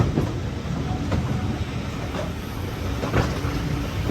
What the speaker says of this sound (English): It's a steam train.